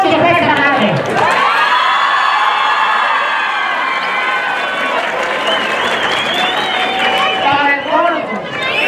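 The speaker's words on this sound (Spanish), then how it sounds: "Aplauso para esta madre." A loud, close crowd at a jaripeo in Mexico bursts into sustained cheering, whistles and shrill whoops with applause underneath, swelling and holding for several seconds.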